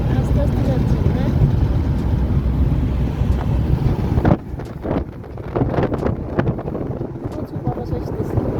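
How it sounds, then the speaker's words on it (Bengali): Strong wind hits a car moving slowly across a bridge over water. It makes a loud, roaring rumble close to the microphone that eases after about four seconds into gustier buffeting, with people talking. "প্রচুর বাতাস আসতেছে"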